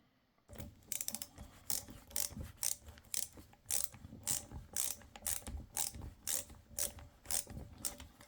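A hand ratchet works bolts loose on a Boss hydraulic pump, sending out repeated bursts of rapid metallic clicking, about a dozen strokes in steady rhythm, close and fairly clear with no talk.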